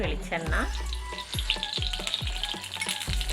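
Hot coconut oil for tempering sizzles and crackles steadily in a pan, a busy frying hiss with repeated low thumps of stirring underneath.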